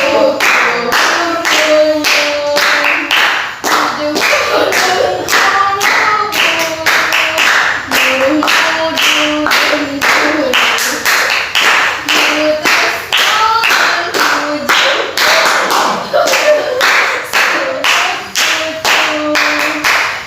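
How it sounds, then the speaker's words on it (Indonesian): A group in an Indonesian REBT group counseling session claps hands in a steady, loud rhythm, sharp beats repeating for about twenty seconds while people sing a children's song along with it. "kita yang lain tepuk tangan"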